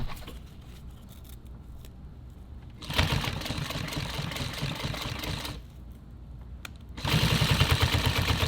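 A sewing machine punching through thick nylon webbing for a tactical belt makes a rapid, chunky mechanical clatter that stops and restarts, growing louder in the last stretch.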